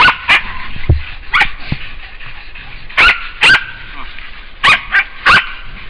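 Several dogs from a hog-hunting pack in Hawaii bark in short, sharp bursts, some loud and close, others farther off, spaced in uneven clusters over steady outdoor background noise.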